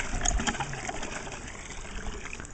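Steady rushing water from a jetted well's pump with a broad hissing wash, fairly close and continuous, with a few faint clanks early on.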